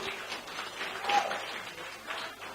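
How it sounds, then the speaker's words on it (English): Applause from a gathered crowd at a quiz night event, fairly faint and distant, a continuous patter of many hands with a voice briefly audible beneath it. "A clap for him, please, Steve."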